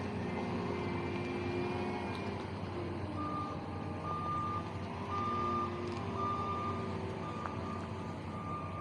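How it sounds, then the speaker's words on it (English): A loader reverses at a loading dock, sounding a steady series of repeated backup beeps over a low diesel engine rumble, moderately distant and continuing throughout. "And the loader's right here."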